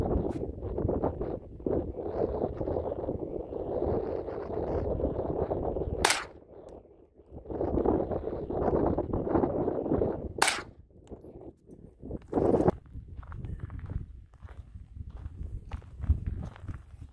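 Gunshots at outdoor target practice at Quartzsite, two sharp cracks several seconds apart, cutting through steady wind noise on the microphone.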